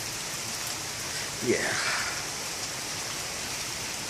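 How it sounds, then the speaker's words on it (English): Hard rain falls outdoors on a December day, a steady close hiss throughout, while someone briefly speaks over it. "it's raining hard."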